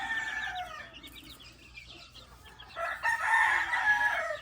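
A group of about 24 sick chicks kept by the sea cheeps and peeps in dense, close, overlapping calls that swell louder toward the end, with no talk.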